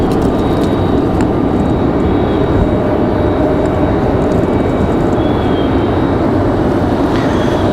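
A Delta Airbus A220-100 from New York passes near an airport, its jet engines a loud, continuous roar that holds steady throughout.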